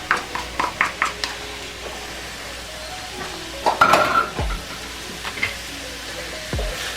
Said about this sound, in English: we're gonna go ahead and give this a nice mix as well, family